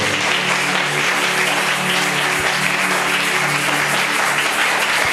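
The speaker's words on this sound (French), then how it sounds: "Nous acclamons très fort" Church congregation applauding loudly and steadily, dense continuous clapping from a large crowd filling the room with no talk over it.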